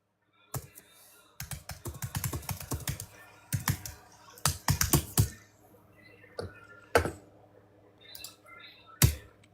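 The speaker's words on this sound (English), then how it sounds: "if you keep banging that keyboard, it's not going to work tomorrow" Loud, fast typing on a computer keyboard: bursts of sharp clicks and heavy key strikes with pauses between, close and dry, with no one speaking.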